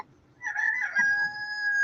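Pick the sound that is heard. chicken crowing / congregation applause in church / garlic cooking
chicken crowing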